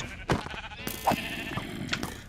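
Sheep bleating in the Minecraft video game, several short bleats spread across a couple of seconds, fairly close and clear with no talk over them.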